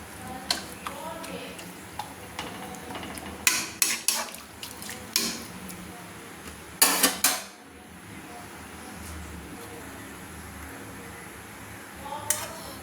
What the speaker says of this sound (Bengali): চাউমিনটাকে আমি আবার নেড়ে দিচ্ছি